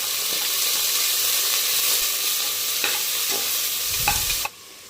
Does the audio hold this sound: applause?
no